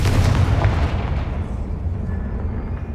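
A Confringo fire spell explodes in Hogwarts Legacy during a troll fight, a loud booming blast that rolls off into a decaying rumble.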